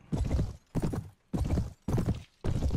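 Horse hooves clip-clop in five rhythmic bursts with short gaps, close and fairly loud, as a mount moves in the Clash of Kings Warband mod for Mount & Blade, with no talking.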